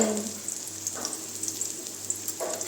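Cumin and mustard seeds sizzle in hot oil with onion in a pan, giving a steady close crackle with small pops and light stirring knocks.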